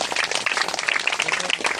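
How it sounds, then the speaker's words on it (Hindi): An audience claps at a gathering, a steady patter of applause that stays fairly close and even, without a voice over it. "जोर से ताली बजाएंगे"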